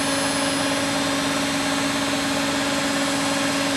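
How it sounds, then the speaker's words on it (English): A Beko washing machine on full spin gives a steady, loud mechanical hum with a constant whine and faint vibration, holding unchanged throughout with no talking. "Full spin now, and the machine"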